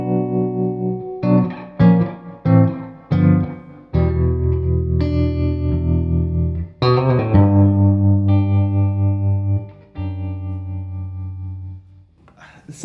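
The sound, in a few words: electric guitar with tremolo effect and outboard reverb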